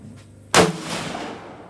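A single sharp shot from a CZ 457 rifle fired at a target, a sudden loud crack followed by a short echoing decay in an outdoor range setting.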